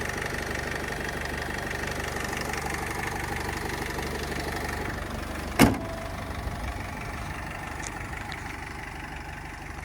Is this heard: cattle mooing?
no